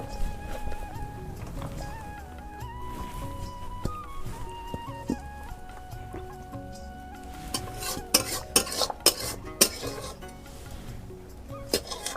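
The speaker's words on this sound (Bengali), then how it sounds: "এবার চাটনিটা ঢেলে নিই।" Mango chutney poured from a kadai with a utensil scraping the pan. Clinks and scrapes come close and fairly loud, most of them dense near the end, over a soft background hum.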